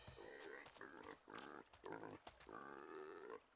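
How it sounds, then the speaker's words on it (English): A pig in an animated children's storybook forest scene grunts and oinks in several loud, close bursts with short pauses between them, set against a busy cartoon soundtrack. "This pig has got Blue's paw print on it."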